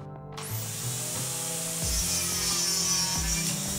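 A Dremel DSM20 compact saw cutting through a wooden board, its high motor whine ringing steadily with a grinding, rubbing bite into the wood that shifts in pitch as the blade moves, loud and close with no talking.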